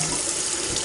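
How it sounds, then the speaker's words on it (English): Cold water runs from a kitchen tap into the sink around a pressure cooker pot, a loud, close, continuous splashing rush in a brief burst with no talk. "I always run a little cold water just around it"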